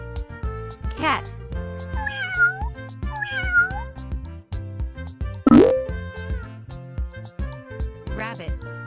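A domestic cat meows clearly in the middle of a sequence of animal sounds, a single loud, rising call set among other animal noises and a voice naming animals.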